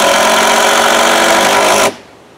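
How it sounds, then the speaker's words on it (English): A power driver runs a number 10 by 3 inch screw through a deck joist into a support block for a pergola, giving a loud, steady whirring drone for about two seconds before cutting off abruptly. "I just take a number 10x3 inch screw and drive it through the joist"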